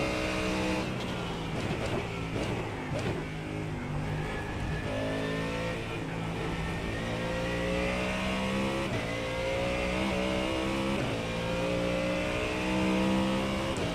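A Ford Mustang GT3 race car in iRacing, its engine droning steadily and revving up and down through gear changes over a long stretch, with occasional tire squeal, loud and continuous with no talk.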